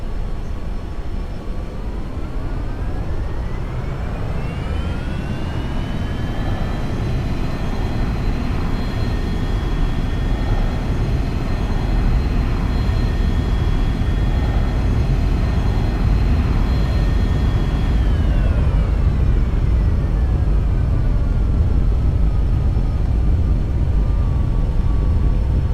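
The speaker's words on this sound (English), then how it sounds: "Alrighty, we're taking off now." A Boeing 737 in X-Plane 11 takes off, its jet engines spooling up into a loud, steady roar that holds for most of the run, then eases off toward the end, with a continuous low rumble throughout.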